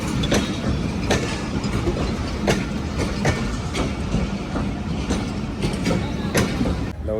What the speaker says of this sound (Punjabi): ਸਾਡੀ ਜਿਹੜੀ ਟ੍ਰੇਨ ਹੈਗੀ ਆ ਉਹ ਆ ਗਈ ਹੈਗੀ